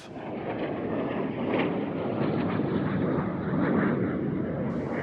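An L-39 jet trainer roars past at an airshow, a loud, steady broadband jet rush that swells slightly midway and near the end, with no voices.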